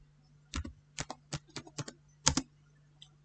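A short burst of keystrokes on a computer keyboard, about eight or nine distinct clicks in small clusters against a quiet background with a faint steady hum.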